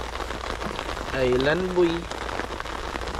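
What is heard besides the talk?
rain drops falling on a roof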